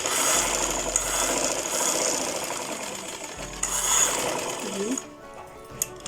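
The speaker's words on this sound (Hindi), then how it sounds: "थोड़ा सा यहाँ से आपने डबल सिलाई लगा लेनी है ये" A sewing machine stitches a suit neckline, a close, steady mechanical whir running for about five seconds before stopping, followed by a brief quiet with a couple of small clicks; a voice speaks over the machine.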